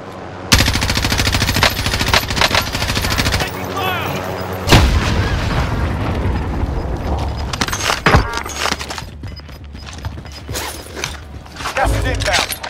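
Automatic gunfire from the Call of Duty Warzone battle royale game, loud sustained bursts with sharp heavy shots near 5 and 8 seconds over a dense game soundscape, with a few brief voice sounds mixed in.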